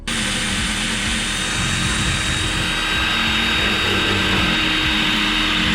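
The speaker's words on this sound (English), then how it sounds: "grab the drill and the drill bit and drill out that little hole right there" Power drill boring a small hole in a carbon fiber side skirt on a Toyota GR86, a loud, steady high-speed whine running continuously and close up with no pauses.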